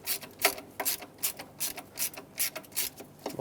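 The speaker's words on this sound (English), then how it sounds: "These are going to have to cut new threads into the plastic as you screw them in." Screws driven into a plastic intake on a 2008-2010 Ford F250 Super Duty 5.4L V8, cutting fresh threads. A steady run of about nine evenly spaced ratcheting clicks, close and moderately loud, with no talking.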